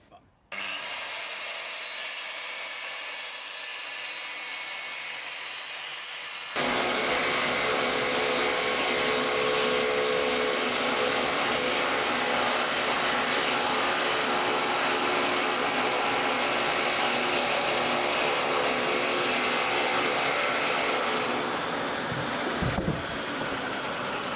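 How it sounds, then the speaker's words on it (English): A circular saw cutting down an MDF board, a loud, continuous close-up whine and rasp that runs steadily with a change in tone partway through, then stops abruptly near the end. "here's a clip of him using the circular saw, which he actually owns, cutting down the MDF"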